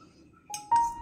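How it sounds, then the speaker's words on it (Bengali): A spoon clinks against a bowl while yogurt is stirred into ground coriander and cumin. Two short, close metallic taps ring out, the second louder, in an otherwise quiet room. "দই মিশিয়ে দিলাম।"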